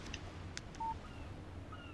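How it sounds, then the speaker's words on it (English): A short electronic tone rings out once in the Alan Wake video game, marking a phone text message alert; it is brief and fairly quiet against a low background hum, with no talk. "text message from Barry"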